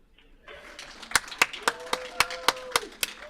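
A small group claps in a curling club warm room as a team comes off the ice after a playdown tiebreaker, steady rhythmic claps close by, about a dozen crisp hits over a low murmur of voices.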